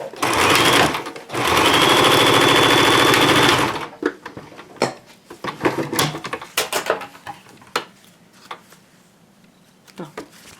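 Sewing machine stitching fabric for a homemade car organizer, a loud close steady mechanical run of about three seconds near the start, followed by quieter handling clicks and rustles with a voice speaking.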